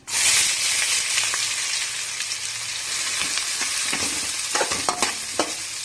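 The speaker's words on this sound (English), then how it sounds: "Now we stir the ingredients together. The next we add the onions." Onions stirred and frying in hot oil with dried red chilies, a loud steady sizzle with scraping stirs and clinks of the spoon against the pan, no voices.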